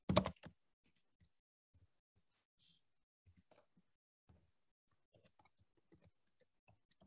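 Soft, sparse keystrokes on a computer keyboard while code is typed, scattered irregular taps at close range after an opening burst, faint and isolated without talk.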